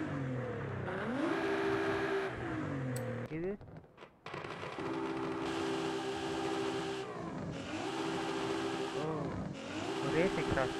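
A race car with race exhaust and engine upgrades in Forza Horizon 5, revving up and down in repeated surges with a brief dip midway, while someone talks over it.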